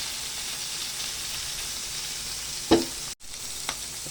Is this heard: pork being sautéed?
yes